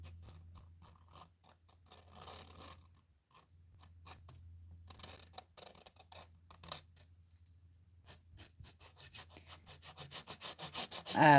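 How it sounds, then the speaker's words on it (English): Soft, close scratchy rubbing strokes of a chubby marker dragged across a painting canvas, intermittent at first and then quicker and louder toward the end, over a faint low hum. "the sound and the feeling of dragging a marker across the canvas"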